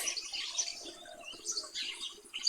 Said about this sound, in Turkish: Ya kuş seslerini kapat.